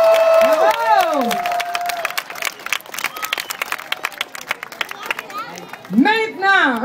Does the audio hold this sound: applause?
yes